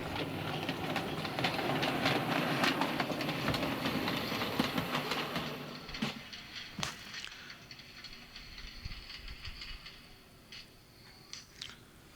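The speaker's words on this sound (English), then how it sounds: "let's see the M7 on the layout, bringing in a short unfitted freight train" A model M7 locomotive pulling a short unfitted freight train rumbles and clatters along a layout track, loud at first, then fading to quieter clicks and rattles as it slows.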